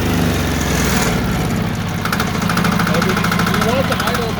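A Timberking 1220 sawmill engine idles steadily nearby, a loud continuous rumble with slight vibration throughout.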